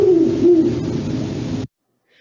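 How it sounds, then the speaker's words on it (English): Owls calling in a facility at night, a squawk and odd harsh call from one bird answered by hooting from another, close and fairly loud, ending abruptly after about a second and a half. "So that squawk and weird sound is Victor, and Iris is hooting back"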